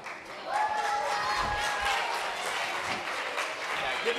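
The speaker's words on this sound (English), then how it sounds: "give yourselves a round of applause" Crowd applause at a student town hall following a rock band's performance, a sustained roar of clapping and cheering with voices and a whistle mixed in.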